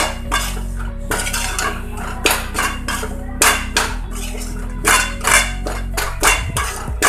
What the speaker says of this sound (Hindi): अभी इसको मिक्स कर देंगे अच्छे से